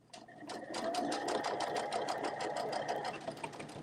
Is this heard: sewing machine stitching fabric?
yes